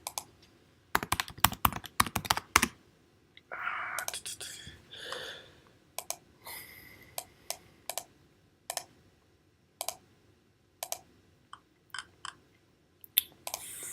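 Keyboard keys clatter in a fast burst of typing, then come as scattered, separate clicks with pauses between them, close by.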